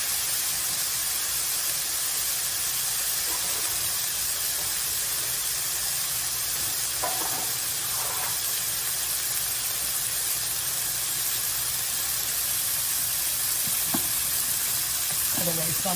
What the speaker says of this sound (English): Get my beef patties in here. While those onions are still burning.